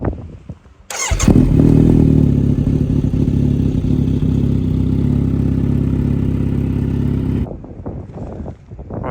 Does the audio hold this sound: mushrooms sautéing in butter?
no